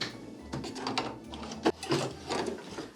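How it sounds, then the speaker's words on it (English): An embroidery sewing machine stitching a final outline stitch on a fabric village church piece, with a light mechanical whirring and irregular clicks and knocks, close and fairly quiet. "it's back into the machine for our final outline stitch"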